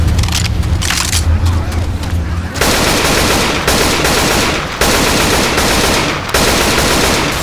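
Rapid automatic gunfire mows down zombies in Left 4 Dead 2, loud, dense bursts that break off briefly and start again several times, with game noise underneath.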